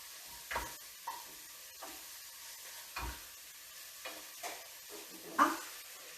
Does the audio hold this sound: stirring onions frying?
yes